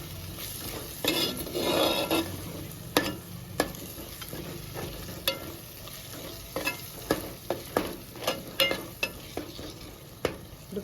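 Chili powder masala with turmeric frying in a pan for fish curry, a soft background sizzle punctuated by a series of sharp spatula clinks and scrapes against the pan, no speech.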